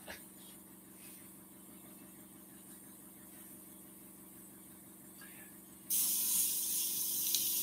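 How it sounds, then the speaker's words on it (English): A hiss of compressed air blows a stencil flat against a wooden bowl, bursting in sharply and loudly near the end over a low, steady workshop hum. "Just using the air to flatten the stencil down."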